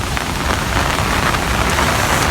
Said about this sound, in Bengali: অনেক বৃষ্টি অনেক বাতাস